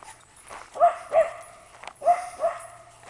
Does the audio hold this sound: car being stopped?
no